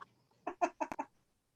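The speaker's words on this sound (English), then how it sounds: "Oh, the chickens, yeah." Chickens clucking close by, a quick burst of four or five short clucks in a row followed by silence.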